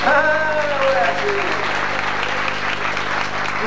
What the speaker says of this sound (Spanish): vamos a aplaudir, a ver cómo estamos para aplaudir